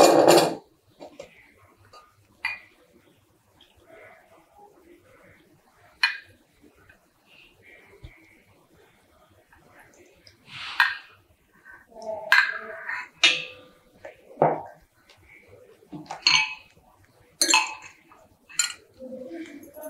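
Homemade coconut hair oil being strained in a kitchen, with scattered clinks of metal and glass utensils and vessels, some sharp and close, in bursts over a quiet background with no talk.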